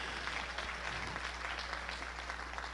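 A church congregation claps hands at a Sunday evening service, a faint, steady wash of clapping from the room over a low constant hum.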